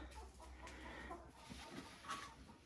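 Hens cluck softly inside a chicken coop at a country dacha, a few low murmuring calls drifting over a quiet, faintly noisy room with no talking.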